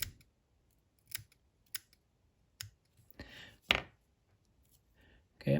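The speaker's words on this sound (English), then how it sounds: "I'm going to trim that hackle off of the top." Scissors snipping hackle feather off the top of a Stubby Ant fishing fly, several crisp isolated clicks and snips close up with short pauses between, fairly quiet in a still room.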